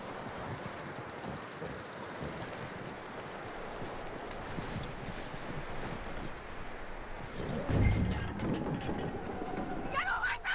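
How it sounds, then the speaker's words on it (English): Steady clip-clop of horse hooves trotting at a brisk rhythm in the video game Red Dead Redemption 2, with rustling and a louder thump near the end. "That looks like a decent horse."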